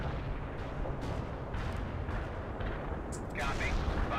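Artillery barrage in the video game World in Conflict, a series of deep booming impacts spaced about half a second apart, followed by louder crackling blasts near the end.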